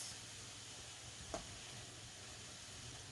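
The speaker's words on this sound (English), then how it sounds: "So we're going to leave it frying until we achieve our desired browning" A quiet, steady sizzle of chin chin dough frying in oil, with a faint low hum and one brief click partway through.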